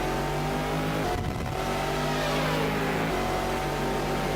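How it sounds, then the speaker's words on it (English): A Ferrari 333 race car roars in a racing game, its engine holding steady harmonic tones, briefly dropping as it shifts or lifts, then rising again, loud and continuous with no talk. "Don't know what car that is that makes that noise, but it sounds great."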